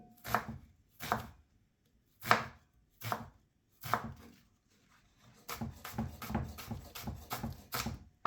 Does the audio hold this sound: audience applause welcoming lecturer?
no